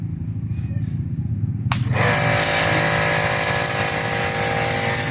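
A pressure washer starts up during a test, cutting in after a quieter stretch with a loud, steady high-pitched spray and motor roar that holds on continuously and close by.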